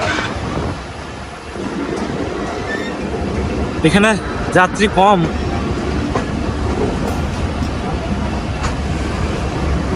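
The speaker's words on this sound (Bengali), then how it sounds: "এইখানে ট্রেন থামবে এইখান থেকে কিন্তু যাত্রী উঠবে" A passenger train stands at Amirabad railway station, its steady rumble broken around the middle by a few high metallic brake squeals, while people talk nearby.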